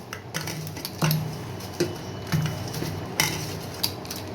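A spoon mixes black pepper powder into an egg toast mixture in a bowl, giving a few quiet, irregularly spaced metallic clinks and scrapes with soft rustling in between.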